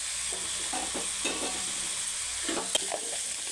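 Boiled cauliflower frying in a pan for a South Indian cauliflower fry, a soft steady sizzle with intermittent scraping stirs, fairly quiet and close.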